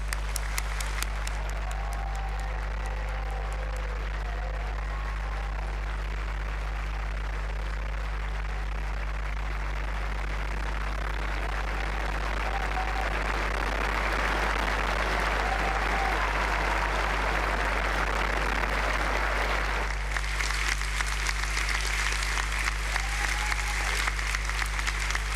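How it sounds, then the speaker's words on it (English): Graduates and guests at a Milton Keynes degree ceremony break into loud, sustained applause that swells to a thunderous peak midway, filling the hall continuously with dense clapping and crowd noise. "raise the roof in one last thunderous round of applause"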